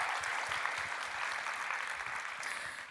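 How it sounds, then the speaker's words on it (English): Audience applause at a blogging conference talk, a dense, even wash of clapping heard from a distance, fairly faint and steady for a few seconds. "Yes, clap it up."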